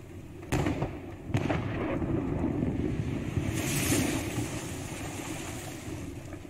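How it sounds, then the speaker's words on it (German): Ship cannons fire during a naval battle in Pillars of Eternity 2, two sharp booms heard close together, followed by a long roar like rushing wind and surf. "Feuer mit 5 Kanonen."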